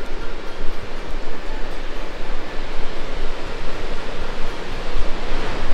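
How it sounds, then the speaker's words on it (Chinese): A large waterfall plunges from a mountain top in North Cascades National Park, its broad roar a constant, loud rushing wash with no break. "你看它的旁边有一个好大的一个瀑布哦，从那个山顶上冲下来"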